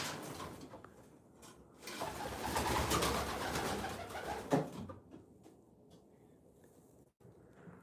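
Pigeons cooing in a loft, a close, steady murmur of soft coos and rustling with a brief louder flutter midway, then quieter near the end; no one talks.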